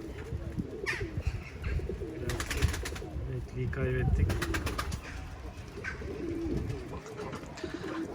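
Pigeons coo repeatedly nearby outdoors at a backyard coop, with soft rhythmic calls mixed with other birds and someone talking in Turkish over them.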